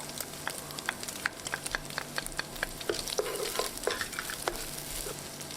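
Chopped garlic and diced onion fry in a pan, with soft sizzling under a run of light, sharp spatula scrapes and stirring clicks, close and fairly quiet.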